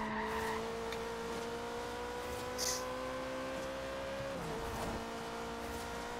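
Steady engine drone of racing cars with a sustained tire squeal in the video game Forza Horizon 3, continuous and loud, without talk.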